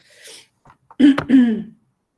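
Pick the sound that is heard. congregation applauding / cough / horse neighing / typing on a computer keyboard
cough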